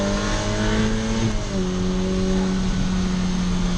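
A 2023 Ferrari F8 Spider's engine revs hard and climbs in pitch as the car accelerates, a loud, steady, close-up drone with no talking over it.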